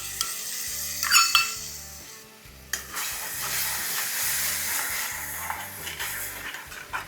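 A small cup of yogurt stirred into a sizzling potato kurma with green chilies; loud close hissing and sizzling with stirring scrapes, a brief lull, then steady frying again over soft background music.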